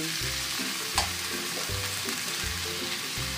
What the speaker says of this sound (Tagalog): Lagay na po natin itong matitigas na gulay.